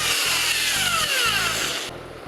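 A power drill bores a screw hole into a homemade miniature strip cutter, a loud whirring drone that pulses in short bursts and dips in pitch as the bit bites, then quickly winds down.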